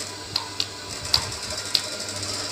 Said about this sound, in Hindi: इसको सिलाई लगा देनी है